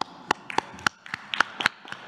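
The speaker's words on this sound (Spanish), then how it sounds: "Un aplauso." Sparse, close hand claps, roughly a dozen sharp separate hits in a quiet room during a press briefing, few hands rather than a full crowd.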